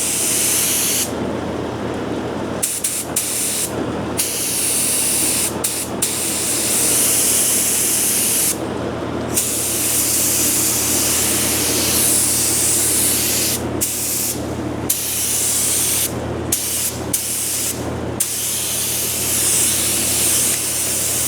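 Compressed air blasts hard across a panel on a 1937 Chevy, loud broadband hissing in long bursts broken by brief pauses as the trigger releases, with a steady fan hum underneath.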